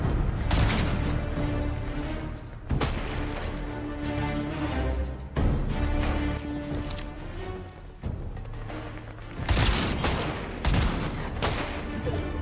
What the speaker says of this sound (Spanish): me están disparando de otro maldito sitio